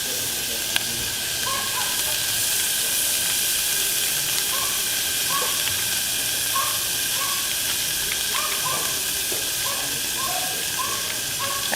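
Vegetables sauté in a hot pan for vegan black bean tacos, giving a steady, even sizzling hiss throughout with faint scattered pops and clinks, with no talk over it.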